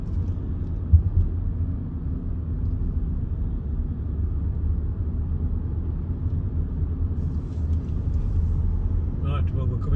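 A car cruises along a smooth back road in Wales, its steady low rumble and tyre noise holding evenly close by throughout, with a brief faint higher rattle near the end.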